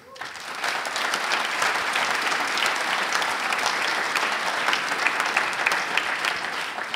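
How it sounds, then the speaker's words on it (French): An audience at a Namur MR new-year gathering applauds the Philippeville section, a full, sustained round of clapping from a large crowd that swells in quickly and holds steady, close and fairly loud. "donc je voudrais qu'on les applaudisse"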